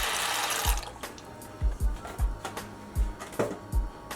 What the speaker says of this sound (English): So you want to make sure that your pot of water has brought to a boil before you add your noodles.